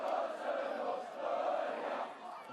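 A rugby crowd at an interschool match between Oakdale Landbou and Boland Landbou reacts to a late tackle penalty, a distant swelling roar of many voices that rises, dips and rises again.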